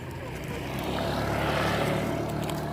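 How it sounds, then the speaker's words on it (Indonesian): A motorbike passes by on a street, a steady engine drone that swells toward the middle and fades slightly, heard at moderate distance with no one speaking. "Awas ana motor, Mam."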